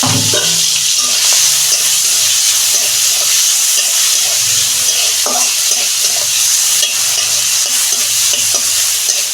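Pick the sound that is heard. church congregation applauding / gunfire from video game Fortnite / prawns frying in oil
prawns frying in oil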